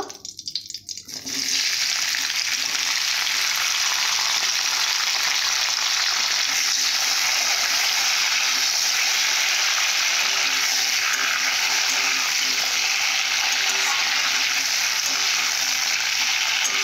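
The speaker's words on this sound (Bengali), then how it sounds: "এরপর গরম তেলেতে আলু দেব।" Potatoes hit hot oil in a pan and settle into a loud, steady sizzle of frying that carries on unbroken after a brief quiet start, with no talking over it.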